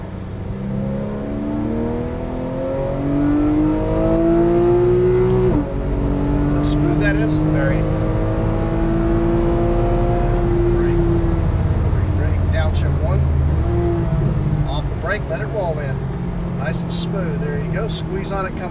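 A 2012 Porsche 991 Carrera S on a race track, engine revving up through the gears with rising pitch, heard from inside the car under a coaching voice and a few clicks.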